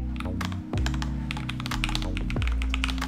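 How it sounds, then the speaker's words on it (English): Quick, even keystrokes on a Lofree Flow Lite keyboard with linear switches and a cushioned polyurethane build, soft thocky clicks tapping steadily close up over faint background music. "I have the linear switches, which I think feel really good and I like the typing sound"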